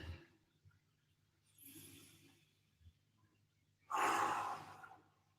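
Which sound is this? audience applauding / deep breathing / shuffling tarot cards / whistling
deep breathing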